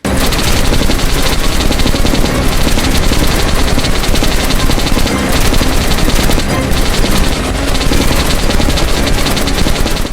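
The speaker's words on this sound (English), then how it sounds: "I happen to find a minigun, so we just stand up and mow down all the commies" A minigun in the video game Metro Last Light fires in one continuous, loud, rattling stream of rapid shots for the whole stretch, with no pauses.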